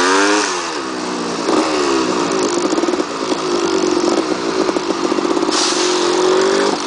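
A Yamaha DT180 motorcycle engine revs loudly and close by, with repeated rising and falling throttle blips over a steady buzzing idle.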